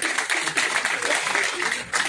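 An audience at a political event applauds Khwaja Sahab, steady clapping from a crowd that fills the whole moment, fairly loud and continuous.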